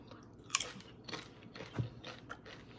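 Crisp crunching of low carb Ala Madre tortilla chips dipped in hot keto spinach artichoke dip with cream cheese, Parmesan, Romano and mozzarella, heard as a few separate close bites and chews with no talk.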